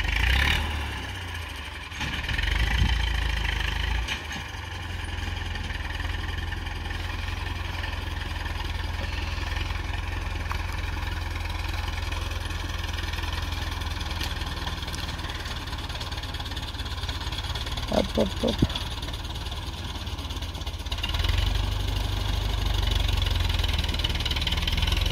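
A tractor engine idles steadily at a farm during silage making, a low, even rumble with faint knocking that continues throughout, with a brief clatter near the end and no talking.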